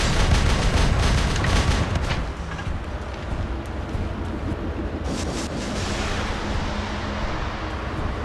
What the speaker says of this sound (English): there is no hiding from this machine gun